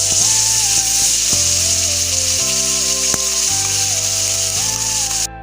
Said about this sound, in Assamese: এই পেষ্টখিনি মই খুব সুন্দৰকৈ ভাজিব লাগিব